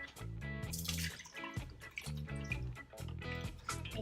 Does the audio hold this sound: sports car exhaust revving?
no